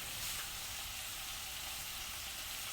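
Food sautés in a pan with a steady, even hiss of sizzling oil, faint and unbroken throughout, with no talking.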